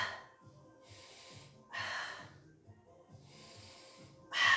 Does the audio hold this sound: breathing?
yes